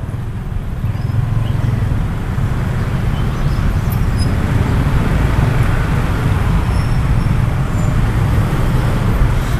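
Dense traffic noise in a Jakarta jam: a steady low rumble of idling and creeping cars, buses and motorbikes, continuous and close, with no speech.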